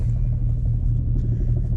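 Strong wind buffeting the microphone outdoors beside a car, a loud low rumble with continuous gusty thumping throughout, no talk.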